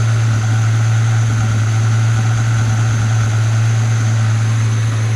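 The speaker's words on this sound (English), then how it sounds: "Hear how it's holding on to revs though?" A Ford Falcon ute engine idles steadily and loudly up close, holding its revs with a constant low drone and faint mechanical rattle throughout, no voices.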